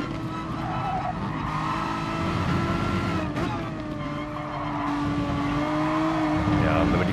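Renault Megane Trophy GT4 race car lapping Suzuka in Gran Turismo Sport, its engine holding a steady, loud drone that rises and falls through gear changes, with brief tire squeal in the corners.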